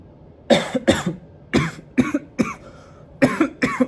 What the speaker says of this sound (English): Dry cough.